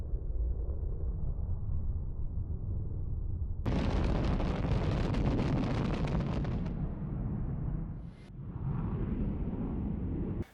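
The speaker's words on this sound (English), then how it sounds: "Here's a bombing video of the B-1 on a bomb run." Bombs from a B-1 bomber on a bomb run explode as a long, heavy rumbling roar, with a sudden loud burst that rolls on for several seconds before fading and rising again.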